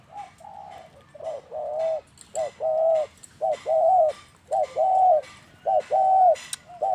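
A female spotted dove coos repeatedly in a steady rhythmic pattern, clear and close, with short pauses between phrases over faint background noise.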